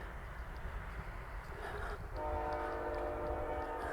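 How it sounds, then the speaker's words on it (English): A train rumbles past close by, its horn sounding a sustained chord partway through, with wind noise throughout. "Hi, train."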